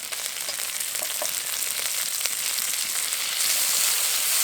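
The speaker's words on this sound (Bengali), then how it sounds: "এবার আদা বাটাটাকে কিছুক্ষণ ভেজে নেব।" Ginger paste and chopped tomato frying in a pan for a vegetarian banana-flower dish, giving a steady bright sizzle with light stirring scrapes and no talking.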